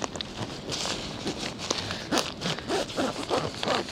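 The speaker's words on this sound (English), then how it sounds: "usually when you're compressing a bag like this and you're zipping it" A zipper runs along an NP Surf kiteboarding golf bag packed with kites and a board, giving a close, scratchy series of short rasping pulls that quicken toward the end.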